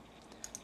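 A mouse click on a check answer button in an online math homework system; two short, light clicks close together, quiet and isolated, no talking.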